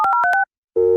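A telephone line tone plays loud and close: four quick two-note beeps, a short gap of silence, then a steady continuous dial tone.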